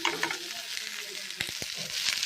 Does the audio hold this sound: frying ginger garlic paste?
yes